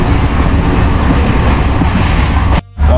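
A local passenger train running on rails, a loud, close, continuous rumble and rattle that cuts out abruptly near the end before resuming.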